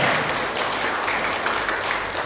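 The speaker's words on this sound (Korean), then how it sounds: "잠깐만 일어나 주시면 우리 박수로 환영하겠습니다." Church congregation applauding to welcome visitors during a Sunday service, a steady broadband wash of many hands clapping throughout, fairly close and even in level, with no talk over it.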